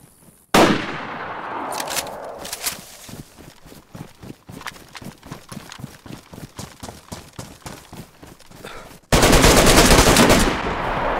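Video game gunfire: a loud opening shot, then a long run of rapid, evenly spaced automatic bursts, ending in another loud sustained blast, close and dominant with no talk.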